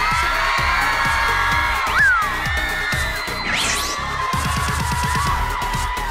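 A showcase audience cheers and whoops to welcome the MC at a K-pop showcase, a loud continuous crowd roar with high shrieks and a rising swell partway through, while music plays underneath.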